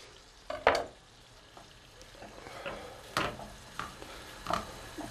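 Four garlic cloves and two small onions sautéing in a pan, a soft steady sizzle broken by several sharp scrapes and clacks of stirring.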